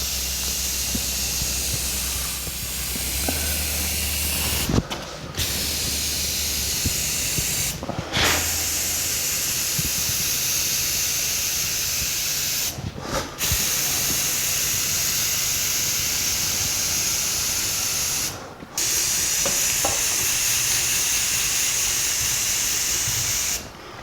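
Semi-gloss black paint sprays in a steady hissing stream onto rock slider trim from a 1984 Jeep CJ7, with long continuous bursts broken by a few brief pauses and no talking.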